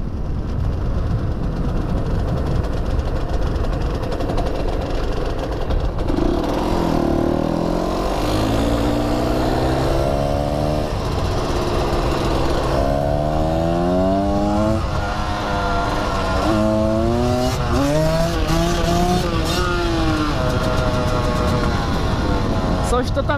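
An enduro motorcycle rides through town, its engine rising and falling through repeated revving shifts over steady wind and road rumble, with a rider talking throughout.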